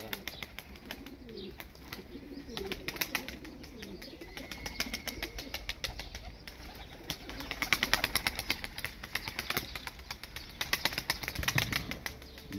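Tumbler pigeons flying overhead, their wings flapping in quick bursts of clatter, with faint cooing and distant ambient noise and some background voices.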